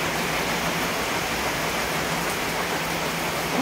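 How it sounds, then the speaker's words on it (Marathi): Heavy monsoon rain pours down in a dense, even hiss, loud and unbroken throughout with no voices. "खूप छान असा पाऊस पडतोय"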